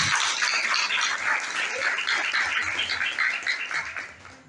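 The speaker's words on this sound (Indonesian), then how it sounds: "Maka mari kita berikan tepuk tangan sekali lagi untuk pemateri kita pada malam hari ini." Audience applause at a Ramadan safari evening gathering at an Islamic boarding school, a dense, sustained patter of many clapping hands that continues steadily throughout and fades slightly toward the end.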